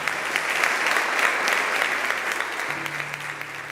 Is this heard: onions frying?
no